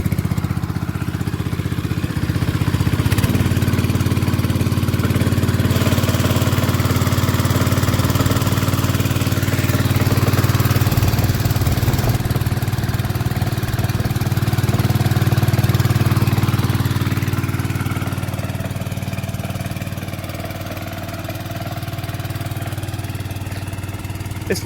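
Warton 8HP engine-driven water pump running steadily close by, a constant low mechanical drone with slight surges, alone with no talk.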